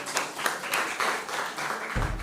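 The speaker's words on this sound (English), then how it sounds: "A round of applause for our contestants." An audience claps for school quiz contestants after the STEM round of a junior high school quiz competition, several seconds of scattered, fairly close hand claps that thin toward the end before a low thump.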